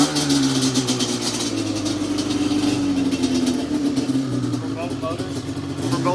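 A dual-motor Yamaha Banshee barn-find ATV runs loudly and steadily nearby, a dense buzzing engine drone that holds throughout, with voices talking over it.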